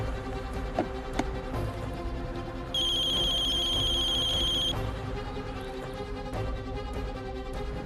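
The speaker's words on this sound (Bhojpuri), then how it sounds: "कल्याणी के फोन।" A telephone rings once in a steady electronic tone lasting about two seconds, heard faintly over a background music bed in a dramatic TV scene.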